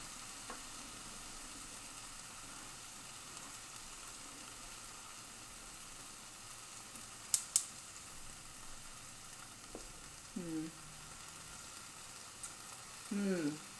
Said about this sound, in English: I'm going to let that sit for a second and stir my beans.